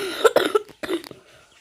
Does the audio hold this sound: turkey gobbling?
no